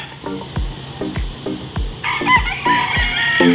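Gamefowl clucking in short repeated bursts at a farm in Culion, Palawan, with a busier overlapping stretch of calls in the second half, close by and fairly loud.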